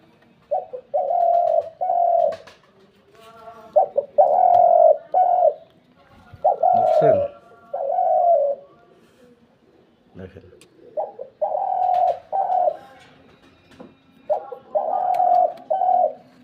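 Decoy doves used for hunting give repeated low, throaty coos in regular bursts, close and clear, separated by short pauses and a few scattered chirps and rustles.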